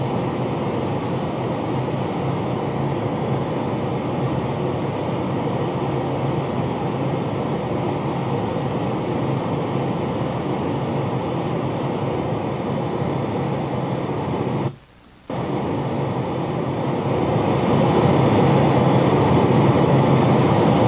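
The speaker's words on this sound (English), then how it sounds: "That's the generator." Generator running with a steady, dense mechanical drone that holds at constant loudness and cuts out briefly near the end before resuming.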